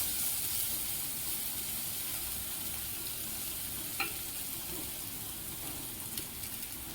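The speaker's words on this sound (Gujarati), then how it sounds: "લસણ અને આદુની પેસ્ટ ઉમેરવાની છે જે ઓપ્શનલ છે એકદમ ધીમા ફ્લેમ ઉપર આપણે તેને બરાબર હલાવી અને થોડી વાર માટે સાંતળવા દેશું" Garlic and ginger paste sautés on a low flame, a constant close hiss and sizzle with a single clear tap of the spoon against the pan and faint stirring.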